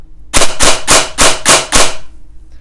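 Six loud, sharp shots from a high-performance DSG airsoft gun fired on semi-auto in quick, even succession at close range, with no talking.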